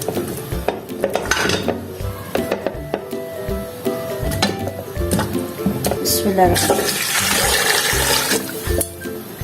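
Goat trotters are placed into a cooking pot in a home kitchen, with clanking metal, splashing water and scraping utensils in bursts, louder and busier toward the end.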